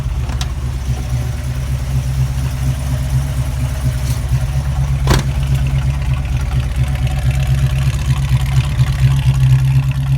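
A classic car's 440 engine idles steadily and loudly nearby, a deep low rumble with a constant, even rhythm throughout.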